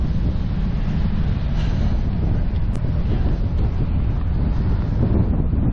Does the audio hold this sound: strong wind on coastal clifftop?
yes